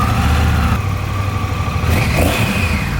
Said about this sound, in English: So let's fire this bike up and take a listen.